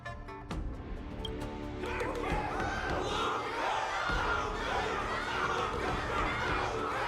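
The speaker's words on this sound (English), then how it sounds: "Everyone's cheering for you" A video game crowd cheers and chatters continuously, a murmuring mass of voices swelling a little and holding steady at mid distance.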